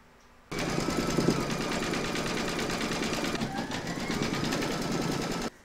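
An embroidery machine stitches a pumpkin design onto a napkin held in a hoop: a loud, rapid, even mechanical chatter starts abruptly, runs for about five seconds, then cuts off.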